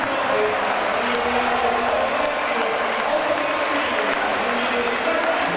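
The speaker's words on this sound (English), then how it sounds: "will applaud the Wildcats players as well as they head from the field" A large stadium crowd at a Leeds Rhinos v Wakefield Trinity Wildcats rugby league match applauds and cheers in a steady wash of clapping, with indistinct voices mixed in throughout.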